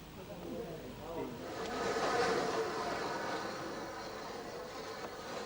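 Steam locomotive on the Bluebell Railway, a Bulleid Pacific running light engine at Sheffield Park, heard as a faint, distant rumble that swells briefly and then settles.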